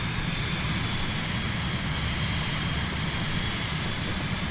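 An airliner cruising in Microsoft Flight Simulator fills the cabin with a steady, loud broadband roar of engine and rushing air, unchanging and continuous with no voices.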